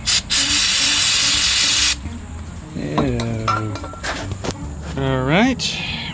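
An aerosol can sprays in a loud, steady hiss for about two seconds onto a Kohler K series tractor engine, followed by metallic clinks and a person speaking.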